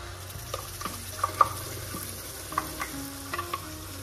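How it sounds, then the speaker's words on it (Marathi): Spice paste for Pune-style misal is stirred and fried in a pan, making a low, soft sizzle broken by occasional spoon scrapes and light taps, with no voices. "पेस्ट छान अशी मिक्स करून घेऊयात।"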